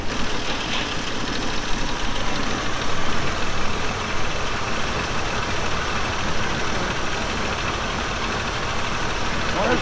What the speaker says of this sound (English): So we started up, we're gonna let it warm up again and recheck the radiator.